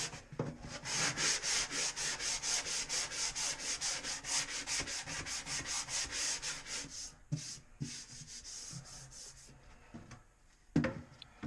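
Putty is sanded by hand with rapid back-and-forth strokes, a steady rhythmic scraping rasp that runs for several seconds before slowing to a few scattered rubs, close and loud with no talk.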